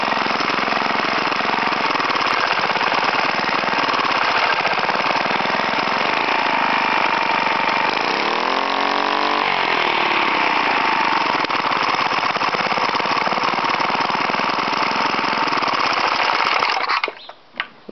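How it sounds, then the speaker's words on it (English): An old Suffolk Punch lawn mower engine runs on its own, a loud, rapid, close putter that holds steady, dips and recovers briefly midway, then sputters and cuts out near the end. "Not a bad little engine for its age"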